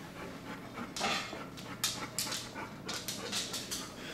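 A dog panting at home, quick rhythmic breathy puffs in short bursts, close and moderately loud, with no talking over it.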